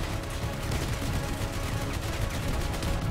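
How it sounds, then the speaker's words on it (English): Dual miniguns in the vehicle combat game Crossout fire a continuous, dense, roaring burst of rapid gunfire at close range, loud and unbroken for the whole stretch. "Dual miniguns."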